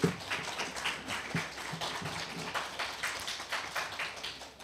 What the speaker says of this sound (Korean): 세 분의 후보자를 격려하는 차원에서 큰 박수 한번 보내주시기 바랍니다.